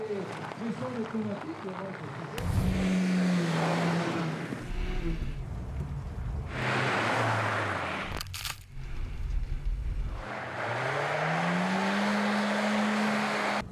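An old Peugeot 104 driven on snow and ice, its engine revving and rising in pitch through several accelerations, close and loud, with people talking over it.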